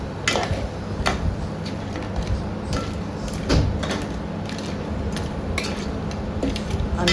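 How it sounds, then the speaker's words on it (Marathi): Crab pieces turned in masala in a pan in a Koli-style crab curry, giving steady sizzling with irregular scraping and clinking of a spoon against the pan, close and continuous. "सगळ्या चिंबोऱ्या टाकून छान परतून घेऊया, म्हणजे त्या मसाल्याची चव त्या चिंबोऱ्यामध्ये"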